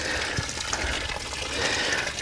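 Water drains out of a farm sprayer tank after spraying a hay pasture, a steady close rush and gurgle of flowing liquid with no talking.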